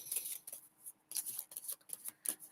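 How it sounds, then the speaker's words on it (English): Deck of tarot cards shuffled by hand at a reading, a quiet, crisp series of papery riffles and slaps coming in irregular short bursts, close and soft with no talking. "I am shuffling the wrong deck."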